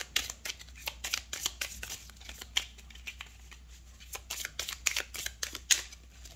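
Gypsy Witch Fortune Telling playing cards are shuffled close up in rapid papery flicks and riffles, fairly loud over a low steady hum, with no voices.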